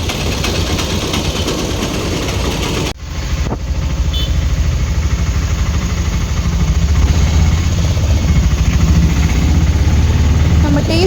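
An auto rickshaw engine idles and runs with a steady, loud mid-pitched drone close by, briefly interrupted by a knock or jolt near three seconds before continuing steadily.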